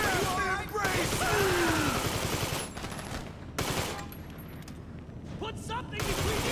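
Automatic gunfire in GTA 5 on PS5, rapid bursts crackling under and between shouted game dialogue, with booming impacts and fairly loud, dense volleys.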